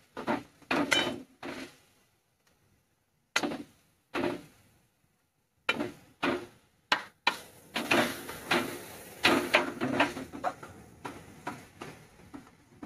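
Coconut and date palm jaggery filling stirred in a pan with a utensil, giving intermittent scraping and tapping strokes in short bursts, then a denser run of clattering scrapes near the end; no talking.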